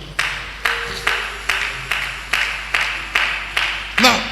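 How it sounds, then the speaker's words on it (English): A congregation at a church service claps in slow, even unison, about ten distinct loud claps at a steady beat, with no talking between them. "Are you clapping?"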